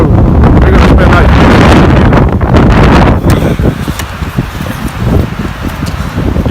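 A strong winter windstorm buffets a Polish military lavvu tent, loud roaring gusts battering the fabric close to the microphone, easing slightly into a rougher, flapping rumble partway through.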